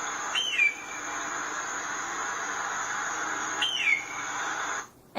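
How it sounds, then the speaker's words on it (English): A bird call played back by the Birdary app sounds twice, a short hooting whistle each time, over a steady hiss of background noise. The hiss cuts off near the end. "it will play the bird's call and show you the bird's name"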